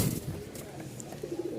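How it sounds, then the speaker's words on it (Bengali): Hand-flying pigeons coo softly in a few low, faint calls over a dull background hum, with no talking. "এগুলো হচ্ছে সবগুলো হাতবাজির কবুতর"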